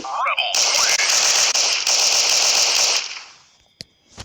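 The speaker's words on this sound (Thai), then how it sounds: "ยิงยิงยิง" Rapid automatic gunfire in the shooter video game Crisis Action, a loud dense burst of shots lasting about three seconds, then fading, with a couple of scattered single shots afterward.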